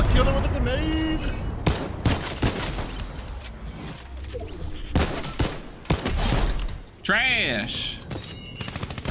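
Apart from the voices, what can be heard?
gunfire in the video game Fortnite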